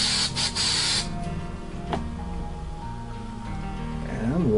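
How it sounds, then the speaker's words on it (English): Adhesive sprayed from a can onto a toy being re-flocked, short hissing bursts up close followed by a quieter steady spray with faint background noise. "spray down a little more adhesive here."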